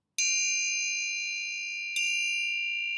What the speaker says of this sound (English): I'm striking roughly about a quarter of the way down, and I'm striking the bottom of the instrument.